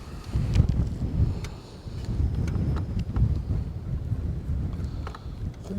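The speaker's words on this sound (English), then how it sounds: "I think the wind is gusting just about strong enough to hold us in place in the current" Gusting wind buffets a microphone out on the water during a fishing trip, with a low rumbling roar that swells and eases unevenly, along with faint knocks from the boat.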